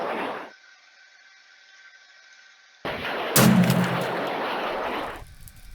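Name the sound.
cake missile launch and explosion in a Minecraft ICBM mod video game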